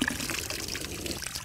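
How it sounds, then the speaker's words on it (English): Water runs steadily from a push-button drinking fountain in Regent's Park, London, a close, bright splashing trickle that continues without a break. "I often see people struggling with the water fountain here because they don't know how to get the water to start"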